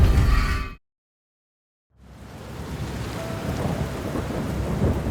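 A thunderstorm effect for a village horror story opens with a loud burst, drops to about a second of silence, then settles into dense, steady rain that builds gradually, without voices.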